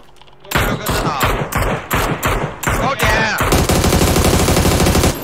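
Rapid sniper fire in a shooting video game: a quick string of loud, sharp shots, then a dense, sustained burst of rattling gunfire that runs to the end.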